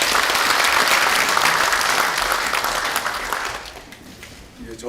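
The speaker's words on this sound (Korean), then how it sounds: "네, 박수 부탁드리겠습니다." Audience applause at a gathering held in the National Assembly, loud dense clapping that fades away over the last second or so as the room quiets.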